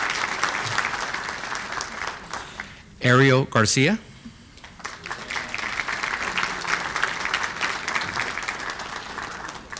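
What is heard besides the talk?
applause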